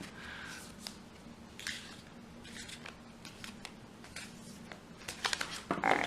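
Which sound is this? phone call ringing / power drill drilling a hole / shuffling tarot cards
shuffling tarot cards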